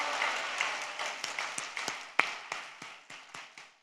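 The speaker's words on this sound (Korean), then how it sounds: "그런데 이 정도 박수 소리 갖고는 설교를 할 수가 없습니다." A church congregation at a revival service claps in scattered, rhythmic beats, each clap sharp and separate, at moderate distance and fairly faint in a reverberant hall, with no talk over it.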